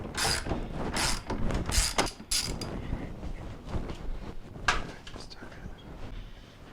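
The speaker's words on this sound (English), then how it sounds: "So we're going to go ahead and loosen up our 1/2-inch agitator bolt" Ratchet on an extension loosening the 1/2-inch agitator bolt of a Maytag washer, giving bursts of dense clicking and creaking with brief pauses and a faint voice underneath.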